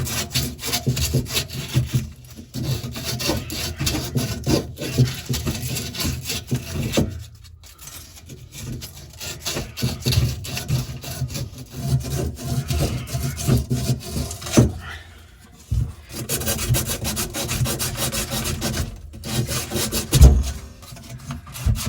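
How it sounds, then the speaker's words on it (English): Sandpaper rubs a pipe during a water shut-off valve replacement, producing a continuous rasping scrape in quick back-and-forth strokes, close and fairly loud, with a few short pauses. "we're gonna have to sand it down."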